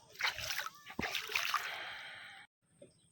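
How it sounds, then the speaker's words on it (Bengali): Fast-flowing river water rushes and splashes steadily at close range for about two and a half seconds, then cuts off abruptly, followed by a brief faint bit of splashing. "এই দেখো নদীর জল"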